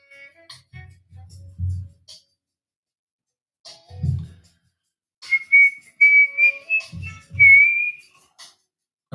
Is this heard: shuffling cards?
no